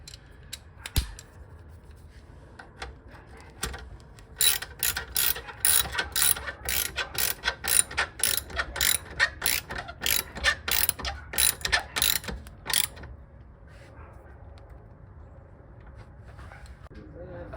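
A ratchet wrench with a 14mm socket tightens new shock absorber bolts on a 1981 Toyota Celica, producing a long run of quick, evenly spaced metallic clicks in steady bursts, close and crisp, after a quieter stretch.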